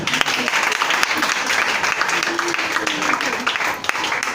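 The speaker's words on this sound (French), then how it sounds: "Est-ce que tu peux acclamer le Seigneur?" A church congregation applauding to praise the Lord, steady, dense clapping from many hands that fills the room without pause, with voices mixed in under the applause.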